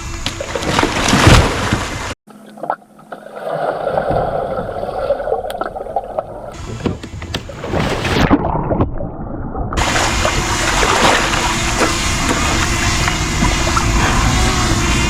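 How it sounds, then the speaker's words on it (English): A kayak is flipped over in the water, with loud sloshing, splashing and gurgling that come in uneven bursts and are broken by a short muffled gap, all heard close up. "the first thing we gotta do is just flip the kayak"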